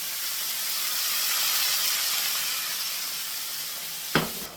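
Vegetables and mushrooms sizzle in a hot pan, a steady broad hiss holding close and fairly loud throughout, with a brief sharp clatter near the end.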